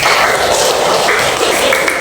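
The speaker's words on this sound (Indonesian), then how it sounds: "tepuk tangan buat kelompok 2" A classroom of people claps for a student group, a dense, steady burst of applause lasting about two seconds.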